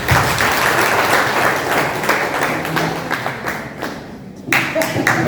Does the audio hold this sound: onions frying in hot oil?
no